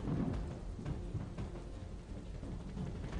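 Monsoon downpour over villages in Amreli's Dhari area, Gujarat: a dense, continuous roar of heavy rain with a low rumbling undertone and no voices.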